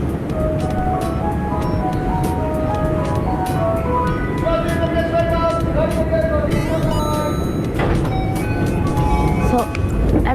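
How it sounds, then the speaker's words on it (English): Japanese train station door jingle, a bright melodic chime played over a busy platform with a steady rumble of trains and crowd noise, with people talking in the background. "every train station has a different sound and it sounds like this."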